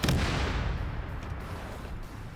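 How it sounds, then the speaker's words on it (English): Melta guns fire in a Warhammer video game, a loud, dense volley of heavy blasts at the start that rolls into a continuous rumbling barrage and slowly fades. "Meltas are mag dumping that."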